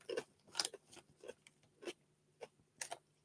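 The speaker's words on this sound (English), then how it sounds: "I'm crunching my crisps." Cheesy Wotsits crisps are crunched in a series of sharp, irregular bites and crackles, close to the ear, with short quiet gaps between them.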